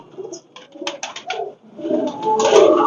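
Pakistani breeder pigeons coo at close range in a loft, soft throaty calls repeating in uneven bursts and building into a denser, louder cluster near the end.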